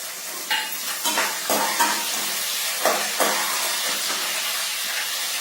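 Curry leaves, green chillies and mixed vegetables sizzle in hot oil for a Telugu vegetable bath, with steady frying hiss and several louder bursts of stirring scrapes, close and alone without talk.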